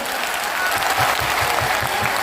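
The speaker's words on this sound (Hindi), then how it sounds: "एक बार ताली बजाओ" Rhythmic audience clapping at a Hindu religious stage gathering, a short burst of steady beat-like claps from a crowd, fairly loud and close, with no talk over it.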